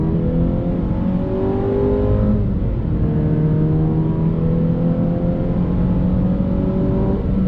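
A 2020 Jeep Renegade engine pulls hard under throttle, its steady rising drone climbing in pitch through the gears with a gear change midway, loud and close with no talk.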